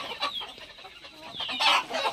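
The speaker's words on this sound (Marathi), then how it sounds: "हे बघा आता सगळ्या कोंबड्या तुम्हाला दाखवतो" Desi country hens cluck softly in a farm shed at night while roosting on bamboo perches, a few low, close calls rising and falling over about two seconds.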